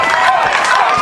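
Audience at a cosplay contest at the Ze Next Convention 2022 applauds and cheers a contestant, a dense, loud, steady wash of clapping and crowd noise with no gaps.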